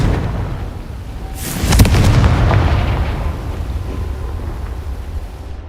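A Confringo fire spell cast in Hogwarts Legacy erupts into one loud, booming explosion that starts suddenly and then rumbles and crackles as it slowly fades.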